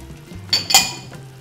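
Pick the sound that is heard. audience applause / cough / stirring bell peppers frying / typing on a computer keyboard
stirring bell peppers frying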